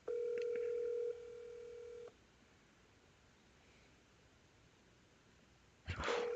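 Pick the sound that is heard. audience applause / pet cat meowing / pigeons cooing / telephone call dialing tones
telephone call dialing tones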